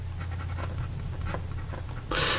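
A Diplomat Aero fountain pen with a fine steel nib writes on paper, giving soft, close scratchy strokes in short bursts over a low steady hum, ending in a louder rush of broadband noise.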